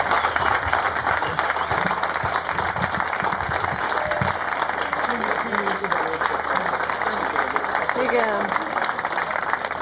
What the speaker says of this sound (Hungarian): egy nagy tapsot a Tamásék is megérdemelnének